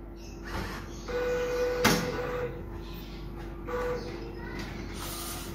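A DTG garment printer running a test print with no ink loaded, its print-head carriage sliding back and forth in steady mechanical passes with a constant motor hum and occasional clicks and clunks, heard close and alone.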